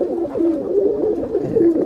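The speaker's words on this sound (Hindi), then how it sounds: "अच्छा रिजल्टेड कबूतर।" Saharanpuri Kaldume pigeons coo in soft, repeated low murmurs, close and steady, against a faint background hum.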